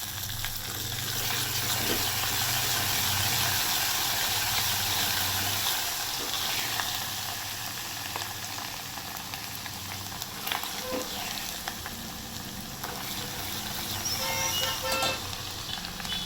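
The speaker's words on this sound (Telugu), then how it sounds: "సో కొద్దిగా అల్లం వెల్లుల్లి పేస్ట్," Garlic and ginger-garlic paste sizzling in a pan, a steady broad hiss of frying that runs throughout with occasional small crackles and stirring clinks, moderately close and without any talking.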